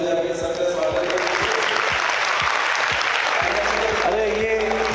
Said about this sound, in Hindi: एक बार सभी बच्चे ताली बजा के सबका स्वागत करें।